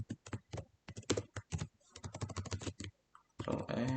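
Quick bursts of computer keyboard typing, close and clear, with rapid clustered keystrokes, short pauses, and a denser run of clicks at the end; no voice.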